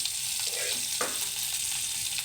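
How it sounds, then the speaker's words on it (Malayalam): Mustard seeds spluttering and popping in hot oil in a pan, a close, steady sizzle with a few sharp crackles, alone without talk. "എണ്ണ ഒഴിച്ചു, എണ്ണ ചൂടായി, കടുകിട്ടു."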